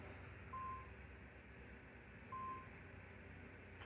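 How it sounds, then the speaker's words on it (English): Two short, identical electronic beeps from an object in Assassin's Creed 2 sound about two seconds apart over a faint, steady low hum. "Oh, it's one of these beeping things."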